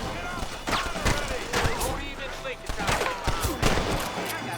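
Rapid bursts of gunfire crackle continuously through a dense, loud Red Dead Redemption soundscape on PS5, with shots overlapping and fading in and out.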